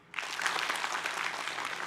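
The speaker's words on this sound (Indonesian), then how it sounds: "Mana tepuk tangannya?" An audience at an Islamic talk show breaks into applause, a dense burst of many hands clapping that starts abruptly and holds steady and fairly loud for under two seconds.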